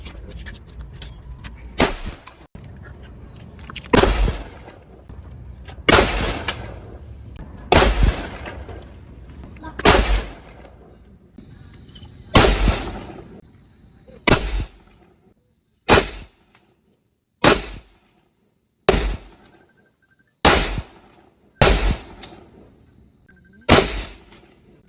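A dozen sharp gunshots fired one at a time at a steady pace on a shooting range, each a loud close crack. Voices talk between the early shots, and the later shots ring out alone in silence.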